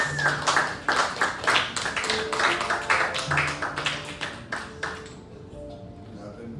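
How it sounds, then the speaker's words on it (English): An audience at a poetry reading claps for a poet, a dense, steady burst of many hands that fades out after about five seconds, with a voice speaking over it. "Give another round of applause to Casey."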